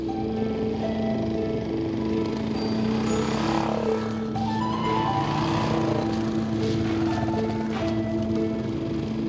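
A Honda motorbike engine hums steadily while riding across dry desert terrain, a close, constant drone with pitch that rises and falls slightly and no talk.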